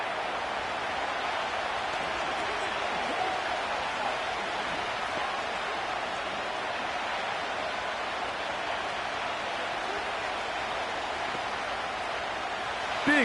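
A Madden NFL 25 stadium crowd roaring for the Indianapolis Colts against the Houston Texans, forming a steady, broad wash of cheering that holds at even loudness for the whole stretch.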